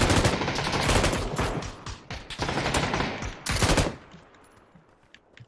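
Rapid automatic gunfire in a first-person shooter video game, with dense overlapping bursts that are loud and close. The shooting stops abruptly near the end, leaving a faint tail.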